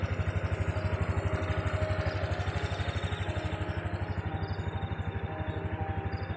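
A motorcycle stuck on a muddy village road runs its engine in a steady, rapid, throbbing pulse. It is close up and constant throughout, with no speech.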